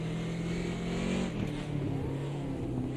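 BMW race car in a Group 5 sim race at Cleveland Airport, engine droning steadily and loud throughout with a constant pitch and slight dips, no speech over it.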